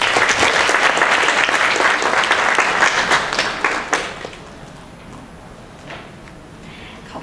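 Dense crowd clapping at a seminar, loud and sustained for about four seconds, then dropping away to quiet room noise with a few stray claps.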